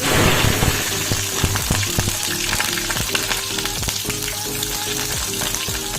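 Onions sizzle and crackle steadily in a hot wok for an Assamese fish curry, a dense, close frying hiss with occasional sharper pops, continuous throughout and with no talking.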